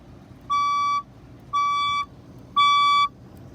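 Building fire alarm evacuation tone during an alarm test: three identical loud, shrill electronic beeps, each about half a second long, evenly spaced about a second apart, with no talking.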